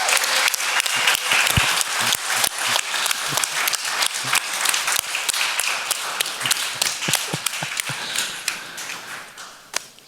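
An audience at a talk event gives a sustained round of applause for the speakers, dense clapping close and loud from start to finish, thinning slightly near the end.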